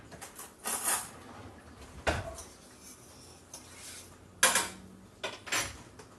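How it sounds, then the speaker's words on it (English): Metallic clinks and scrapes as a knife is pulled off a kitchen knife rack, a few separate sharp contacts and slides spread over several seconds, close and moderately loud in an otherwise quiet kitchen. "Pull my knife off my beautiful knife rack."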